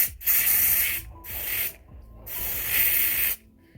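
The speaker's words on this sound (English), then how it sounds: "I spray it inside here." Three bursts of hissing aerosol spray inside a lace wig, close and loud, separated by brief pauses, with no voices.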